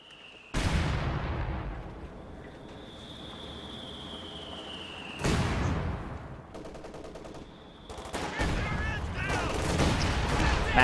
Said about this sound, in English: Scott is going to fire on that machine gun